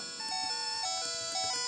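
Low-health warning beeps from Pokémon Yellow repeat in a steady electronic pattern over chiptune music, loud and continuous with no voices.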